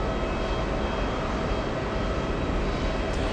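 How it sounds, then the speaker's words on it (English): A JetBlue jet arriving from Buffalo at JFK produces a dense, continuous engine roar, loud and steady throughout with no voices. "We have JetBlue 991 flying in from Buffalo, New York."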